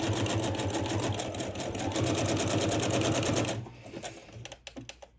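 A sewing machine stitches a zigzag on a paper-craft project, a fast steady mechanical whirring and clatter running loud for several seconds, then stopping and leaving a few soft clicks and handling noises.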